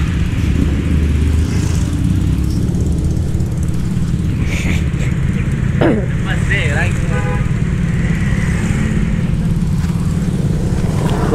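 Congested traffic in Canggu, Bali, with cars and motorcycles crawling close by: a constant loud engine drone, a few horn-like tones in the middle, and people talking over the din.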